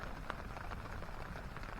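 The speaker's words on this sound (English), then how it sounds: "Started to rain again," Light rain pattering steadily on surfaces at a snowy campsite beside a stream, a soft, continuous patter with scattered drop ticks and no talking.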